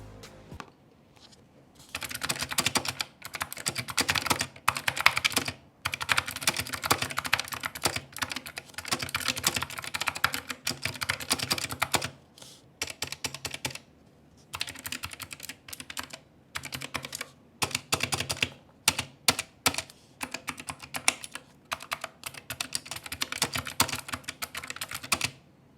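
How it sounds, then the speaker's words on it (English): Rapid typing on an Epomaker SK71 keyboard fitted with Gateron Optical Blue switches, crisp clicky keystrokes in dense bursts separated by short pauses, close and clear with no one speaking. "So these are the Gateron Optical Blue switches."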